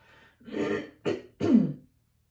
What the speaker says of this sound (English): I'm sorry, I have to cough a little bit.